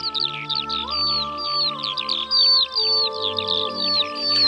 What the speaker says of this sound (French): Le bouvreuil pivoine est un passereau de la taille d'un moineau, mais plus trapu.